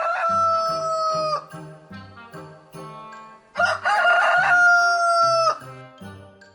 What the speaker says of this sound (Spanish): Volvió a escuchar el canto del gallo que invitaba a comenzar el día.